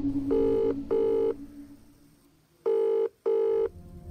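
Telephone ringback tone in a Bengali thriller audio story: four clear electronic rings in two paired bursts, a pause between the pairs, over a faint background hum.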